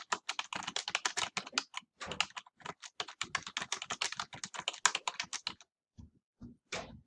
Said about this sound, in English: So I'm going to type that first line into my final draft.